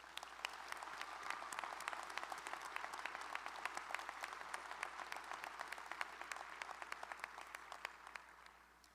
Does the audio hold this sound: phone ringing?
no